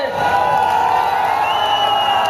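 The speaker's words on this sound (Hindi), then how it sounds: "जोरदार ताली बजाकर स्वागत करें।" A large crowd cheers and whoops loudly and steadily while welcoming a politician at a Samajwadi Party rally, a dense continuous roar with scattered clapping blended in.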